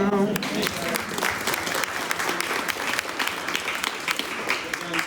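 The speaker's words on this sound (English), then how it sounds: "Round of applause." An audience gives a round of applause, dense continuous clapping that fills the whole stretch, loud and close, with a voice briefly heard at the start.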